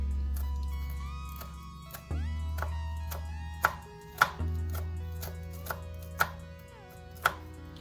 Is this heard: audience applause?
no